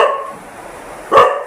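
A pet dog waiting at home for the man of the house gives one sharp, close bark near the end, after a stretch of steady low background hum.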